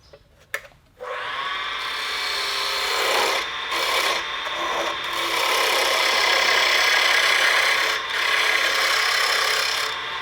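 Wood lathe turning a wooden baseball, a tool held flat against the spinning piece producing a steady, close, rasping scrape after a brief start, with a few short dips where the tool lifts off.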